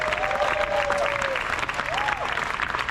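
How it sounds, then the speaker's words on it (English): A crowd at a Cornel West presidential campaign rally in New York City breaks into sustained clapping and cheering, with a couple of sharp whistles rising over the dense applause. "let's give our champions a real big hand clap."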